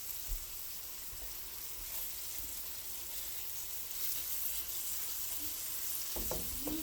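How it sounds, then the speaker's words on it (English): Pork cutlets, or cube steaks, fry in a pan with a steady, soft sizzle that carries on alone, with a few light knocks toward the end. "and browned on one side, and then after it's done brown on the one side, we're gonna flip it over"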